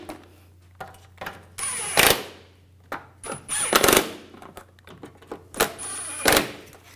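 Nuts and screws are tightened on the transfer case shift motor of a 2007-2013 BMW X5 3.0L L6, with a power tool firing in short whirring bursts and scattered clicks and taps from close by in a quiet workshop.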